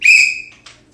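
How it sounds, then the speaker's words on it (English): A single sharp, shrill whistle blast lasts about half a second, loud and close, followed by a brief fainter chirp. "after I blow this whistle"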